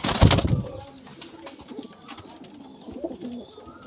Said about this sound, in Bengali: আমার ইম্পোর্ট করা কবুতর